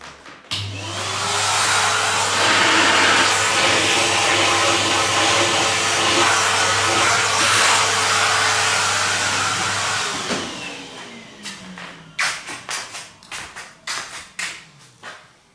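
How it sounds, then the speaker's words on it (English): A vacuum cleaner cleans pipes from an 1865 Forster & Andrews pipe organ during restoration. Its loud, steady motor drone runs for about ten seconds, then winds down into scattered knocks and handling clatter. "Get the vacuum cleaner."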